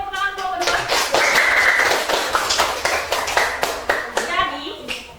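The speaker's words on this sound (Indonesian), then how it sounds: "Oke, beri tepuk tangan kelompok 2" A class of children claps for group 2, an uneven patter of hands with some louder individual claps, while kids' voices chatter over it at the start and end.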